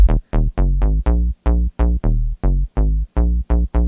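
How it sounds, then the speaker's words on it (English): A funky house bass line sample from Splice pumps out in short, punchy, evenly spaced notes, loud and up front with a bouncy, groovy rhythm and nothing else playing. "We'll just use a splice bass line."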